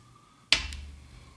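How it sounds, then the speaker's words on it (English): A cork pulled from a bottle of Lunazul Cristalino tequila gives one sharp pop with a quick second tick just after it, close and clear against a quiet room. "Cork pop."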